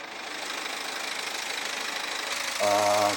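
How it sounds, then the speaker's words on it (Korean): A high-mileage diesel sports coupe engine idles with a steady, rattling clatter, fairly close and moderately loud; a brief humming tone joins near the end. "디젤 엔진에 주행거리가 좀 있다 보니 소리는 어쩔 수 없는 것 같습니다"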